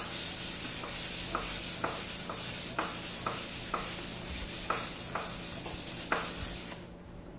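Sandpaper rubbed back and forth along a rusty air rifle barrel in steady rhythmic strokes, each stroke a close, loud scratchy rasp, about a dozen in a row before it stops.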